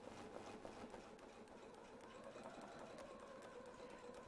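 A domestic sewing machine quilts along a template, its motor whirring in a steady, even run from start to finish, faint and uninterrupted, with no voices.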